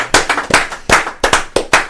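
A single person claps hands about six times in an uneven rhythm, close and loud, with no talk.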